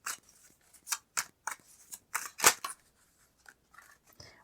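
Tarot cards being shuffled by hand during a card reading, giving a run of quick dry papery riffles and flicks, close and fairly soft, in irregular bursts with short pauses.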